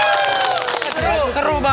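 A cinema audience in Balikpapan cheers and claps after a screening of Sekawan Limo, with loud excited shouts and whoops rising over a brief burst of applause.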